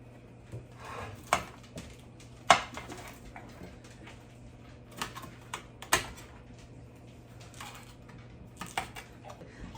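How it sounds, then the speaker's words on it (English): A knife cutting broccoli florets into smaller pieces on a board, a sparse series of sharp taps and thuds at irregular intervals, close but fairly quiet, with no talking. "Gonna cut up my broccoli florets a little bit smaller"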